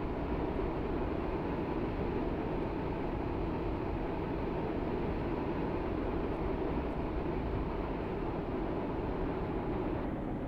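A three-coach train running in the Roblox game SCR gives a steady, loud, low rumbling drone with a constant hum that holds unchanged from start to finish, with no talking.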